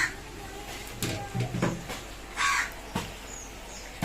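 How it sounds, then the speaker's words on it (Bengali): A crow that visits a home kitchen daily caws a few times in short harsh bursts, fairly close, over faint household background. "এই কাকটা দেখতে পাচ্ছ, এই কাকটা প্রত্যেক দিন আসে আমার এখানে, এসে চিৎকার করবে"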